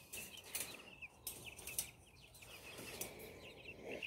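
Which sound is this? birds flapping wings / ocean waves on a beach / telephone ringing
birds flapping wings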